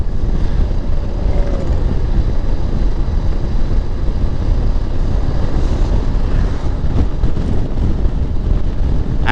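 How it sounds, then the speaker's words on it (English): Steady, loud rushing wind roar buffeting the microphone throughout, a dense low rumble with no talking, from riding at 80 km/h inside a motorcycle helmet. "judge whether you can hear the wind noise in the helmet"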